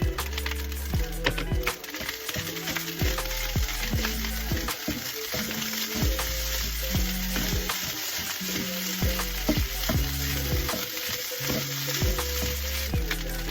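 Corned beef fries in a pan for garlic fried rice, a loud steady sizzle running throughout with repeated scraping and clacking of a spatula stirring against the pan.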